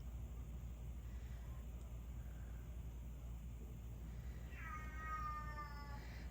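A house cat gives one short meow late in an otherwise quiet stretch of steady low background hum, faint and somewhat distant, with no talking.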